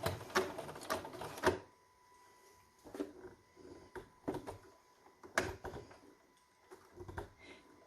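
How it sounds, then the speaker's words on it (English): Bernina domestic sewing machine forcing stitches through thick layers, uneven clattering bursts that stop and start again amid quiet gaps, fairly close and with no speech. "the Bernina, even though it's tough, it is a domestic machine"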